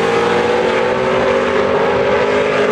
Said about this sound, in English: Lots of tire spin right there.